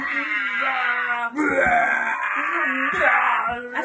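A voice imitates a bear yelling, giving a sustained, strained wailing groan with wavering pitch, loud and close, broken by brief breaths.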